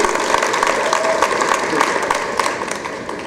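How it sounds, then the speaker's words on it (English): A panel audience at a museum conversation event claps steadily in a brief, even burst of applause that fades slightly toward the end, with a voice faintly under it. "Please give them a round of applause in advance."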